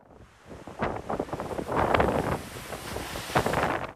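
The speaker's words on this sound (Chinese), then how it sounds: "白色大浪呼啸而来， 拍打海堤，溅出巨大水花" Big surf whipped by typhoon winds on the Xinfeng coast in Hsinchu, Taiwan, waves over four metres, crashing in repeated roaring surges against a seawall amid heavy gusty wind buffeting the microphone.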